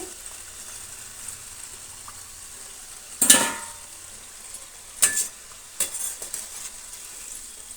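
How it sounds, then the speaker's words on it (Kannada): Karjikaya pastries deep fry in oil on low heat with a faint, steady sizzle, broken by a few sharp clatters and splashes as they are turned, quiet overall. "ಆ ಕಡೆ ಈ ಕಡೆ ತಿರುಗಿಸ್ತಾ ಡೀಪ್ ಫ್ರೈ ಮಾಡ್ಕೊಳ್ಳಿ"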